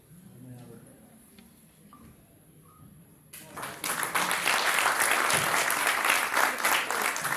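At the Antas Utsav cultural festival, a hall audience breaks into loud, sustained applause after a quieter stretch of a speaker addressing guests, with the clapping swelling quickly and holding strong to the end.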